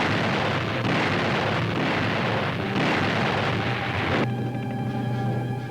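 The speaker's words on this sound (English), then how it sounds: "Tinian Island in the Marianas, lying across a narrow strait from newly won Saipan, is bombarded by American artillery on Saipan." American artillery on Saipan bombards Tinian Island across the strait in 1944, a continuous loud rumbling barrage of blasts with little break, heard alone without speech.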